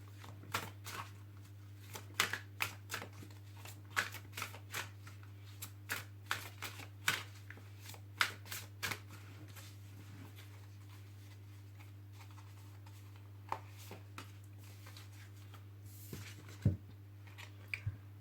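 Oracle cards are shuffled and drawn by hand, making a series of quick, light card snaps and flicks in irregular bursts over a steady low electrical hum, with quieter handling later.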